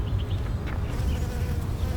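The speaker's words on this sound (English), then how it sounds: "There's like 50 bees right there." A swarm of bees buzzes steadily and densely around a garden pathway being cleared of milkweed, a close, continuous hum with no talking.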